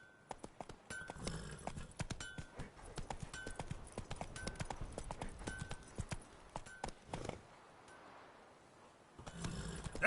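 Horse hooves clip-clop at a gallop in The Witcher 3, a quick rhythmic stream of close, crisp thuds that briefly thins out before picking up again at the end.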